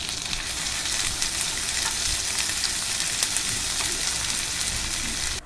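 Onion, garlic and ginger paste frying hard in hot oil, a dense, steady, loud sizzle that hisses evenly throughout with no pauses.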